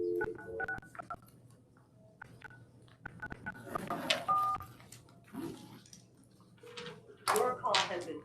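Telephone keypad tones sound in short bursts as a number is dialed to reach a testifier during a police commission meeting, with faint background voices and clicks between the tones.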